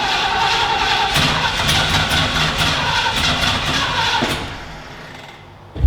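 A cold old Ford motorhome engine with an Edelbrock carburetor and no choke cranks and runs roughly, a loud pulsing rumble that fades out near the end before a sudden bump.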